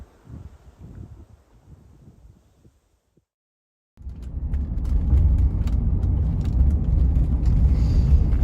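A Rolls-Royce car is driven away by its new owner, opening with faint rustling before a steady, loud low engine rumble and road noise kicks in close by and holds.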